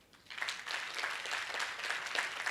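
An audience claps for the host at a mental health awareness workshop. The applause is a steady, dense wash that swells quickly and holds for a couple of seconds.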